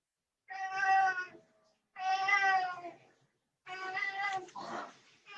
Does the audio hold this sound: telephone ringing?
no